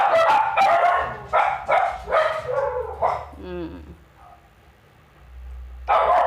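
Dogs bark in a home, giving a few short barks mixed in with a person talking nearby.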